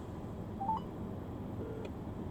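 Keypad tones from a Samsung Galaxy phone dialing 611, two or three short faint beeps in a quiet room.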